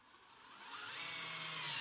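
A power drill drives screws to fasten a rat snap trap to a wooden board, giving a short, close whir that rises steadily in pitch and loudness over a couple of seconds.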